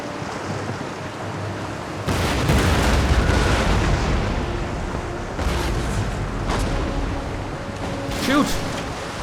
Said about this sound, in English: they are shooting me, and now we are shooting them